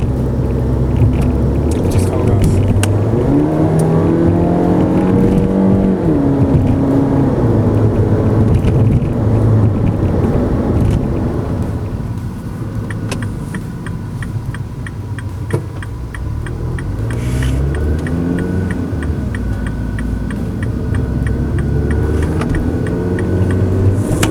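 A car engine with an automatic gearbox drones loudly and rises in pitch as it revs toward 5,000-6,000 rpm, easing back between gear changes, with a voice talking over it.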